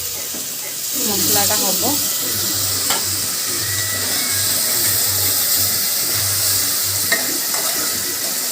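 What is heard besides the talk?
water added to sizzling mutton masala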